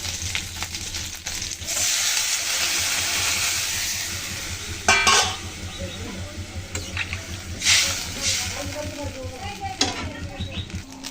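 A loud hiss of water poured into a sizzling eel fish curry with potatoes in a pan, easing into bubbling with a few bursts of spatula stirring, close up.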